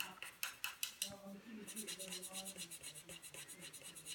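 A marker pen colours in a handmade card, a faint scratchy rubbing with quick repeated strokes across the paper, quiet and close.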